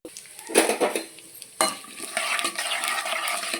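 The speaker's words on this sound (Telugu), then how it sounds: "మార్కెట్లో చాలా బాగుంది అన్న ఫీలింగ్ రావాలంటే కొంచెం పోపు వేసుకోవాలి" Mustard seeds, cumin, dried red chillies and curry leaves hiss in hot oil for a ginger chutney tempering, sharp bursts of sizzle rising and settling alongside spoon clinks against the pan, heard up close without speech.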